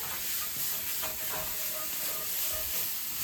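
A cooking mixture is stirred in a cast iron pan over a steady, soft sizzle and hiss, with light scraping strokes and no talking.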